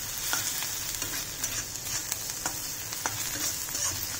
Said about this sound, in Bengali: হালকা হালকা সটে করতে হবে।